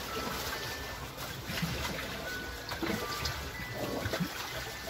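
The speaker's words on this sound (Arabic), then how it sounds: "ها الما داخل" Water trickles and sloshes continuously inside a small fishing boat holed by orcas off the Moroccan coast, with faint knocks and movement against the hull.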